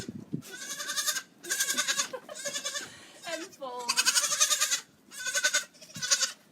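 Baby goats in a yoga class give repeated loud, wavering bleats in bursts of about a second each, close by, while an instructor speaks briefly between the cries.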